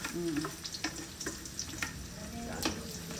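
Onions frying in a pan at a home family birthday cooking session, a steady close sizzle with a few scraping stir strokes and light clinks, no talking.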